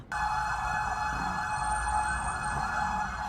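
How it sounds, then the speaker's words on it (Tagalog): Fire truck sirens wail steadily and loudly as engines arrive at a residential fire in Intramuros, Manila, a continuous tonal siren starting abruptly and holding over low traffic rumble. "Sunod-sunod ang dating ng mga fire truck mula sa Karatig Lungsod."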